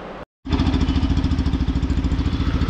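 A motorcycle engine idles close by with a rapid, even chugging pulse, loud and steady after a brief cut at the start, no voices.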